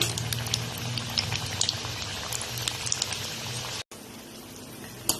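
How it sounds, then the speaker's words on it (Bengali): Khaja pastries frying in oil mixed with ghee over a low flame, giving a steady, close crackling bubble with a brief cut near the end. "লো ফ্লেমে রেখে এই খাজাগুলো ভেজে নিচ্ছি।"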